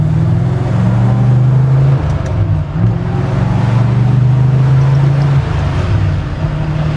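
An old car being driven, its engine giving a steady, loud, low droning rumble heard from close by, with a brief dip midway before it settles back into the same even hum.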